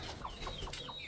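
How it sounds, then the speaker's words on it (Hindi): A rooster in a backyard poultry setup gives a quick series of four short, sharp calls in rhythm, close by and clear over low background noise. "छिदरू वाला मुर्गा बहुत प्यारी क्रीज निकाल रहा है"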